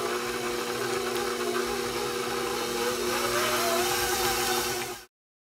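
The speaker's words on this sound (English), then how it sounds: "I find it easiest with cream cheese to mix it up in your mixer" An electric mixer whirs steadily as it beats cream cheese for spinach artichoke dip, a continuous close motor hum with a slight rising pitch near the end before stopping abruptly.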